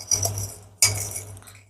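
Sugar is spooned into tamarind tea with two sharp, bright clinks of a spoon against a cup, each ringing briefly before fading, close by and with no talking.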